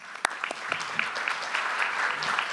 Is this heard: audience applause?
yes